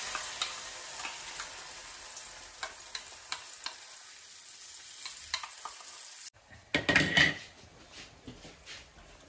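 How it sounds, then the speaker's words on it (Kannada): Ground paste fries in ghee on a low flame for a ghee roast, giving a soft steady sizzle with scattered ticks, and then a louder clatter of stirring near the end. "ಸೊ ಇದು ಲೋ ಫ್ಲೇಮಲ್ಲಿ ಹೀಟು ಆಗ್ತಿರ್ಬೇಕಾದ್ರೆ ನಾವು ಗ್ರೈಂಡ್ ಮಾಡಿರೋ ಪೇಸ್ಟನ್ನು"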